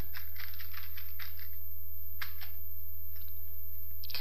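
Computer keyboard clatters with irregular bursts of keystrokes while C++ code is typed, fairly close over a steady low mains hum, with no voices.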